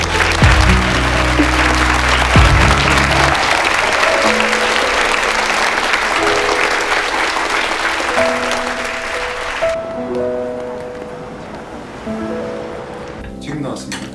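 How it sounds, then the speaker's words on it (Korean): Classmates burst into steady, crowded clapping for the student who earned a perfect exam score, the applause dropping away after about ten seconds as quieter background sounds and talk take over. "자, 박수."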